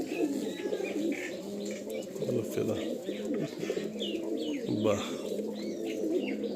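Pakistani Teddy Kamagar Kasuri pigeons coo in repeated low, throaty phrases close by, with chirps and a brief flutter of wings, while someone speaks intermittently over them.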